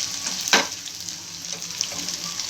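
Onions fry in oil with mustard seeds and curry leaves for Andhra-style pepper chicken, a steady close sizzle with a brief louder crackle burst early on and light stirring scrapes.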